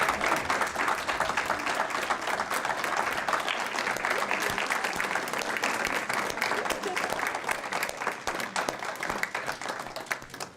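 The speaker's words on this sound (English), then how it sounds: "Let's give them a round of applause for their accomplishments." Dense, steady applause from a room of people at a school board meeting honoring coaches, continuous crisp clapping lasting about ten seconds, without pauses, and fading slightly at the end.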